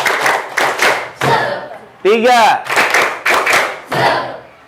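Children clap their hands in a primary school lesson, giving short bursts of rapid, loud, close claps separated by brief pauses, with a voice calling a number between the bursts.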